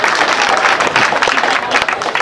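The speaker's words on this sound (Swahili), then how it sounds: "Nipigieni makofi kama nataka." A crowd at a village land-dispute meeting with a Senate committee breaks into sustained clapping, dense and loud, filling the short stretch with no pause.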